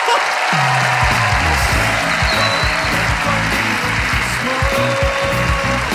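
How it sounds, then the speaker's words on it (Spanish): Steady studio-audience applause opens a comedy talk show, a dense, continuous wash of clapping that stays loud for the whole stretch, with a low tonal musical backing running underneath. "Un fuerte aplauso."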